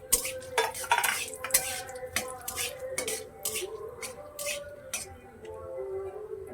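A utensil stirs bay leaves and whole garam masala in a hot pan, with close, repeated metallic scrapes and clinks in an uneven rhythm and a faint sizzle beneath them.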